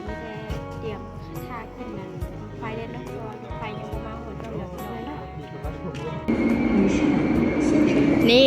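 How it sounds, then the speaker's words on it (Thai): A train rumbles and clanks in the background with squealing wheels, growing louder and closer toward the end, while a person talks over it. "รถไฟก็มาแล้วพี่น้อง"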